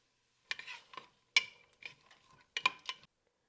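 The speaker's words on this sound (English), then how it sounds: "just give that a quick stir" Onions being stirred in a soup pot for ravioli soup, with several short scraping strokes in irregular bursts, close and fairly quiet against a silent background.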